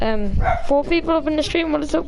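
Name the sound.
dog barking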